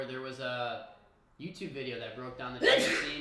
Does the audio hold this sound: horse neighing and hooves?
no